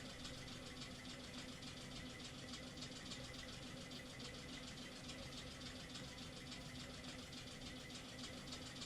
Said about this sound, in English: Ooh, I love this tractor.